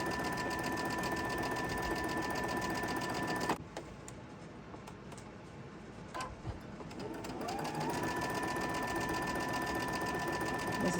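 A sewing machine stitches quilt pieces together with a steady, loud whirring hum, stops briefly in the middle, then runs again at an even pace.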